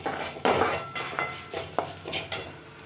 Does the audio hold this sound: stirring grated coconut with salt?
yes